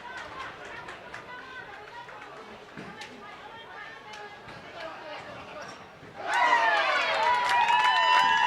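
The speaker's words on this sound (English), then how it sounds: "you can hear the crowd go wild" A bowling alley crowd at the 2015 World Bowling Senior Championships erupts into loud cheering and applause after a late pin hit, following a stretch of murmuring chatter, scattered voices and a commentator's speech.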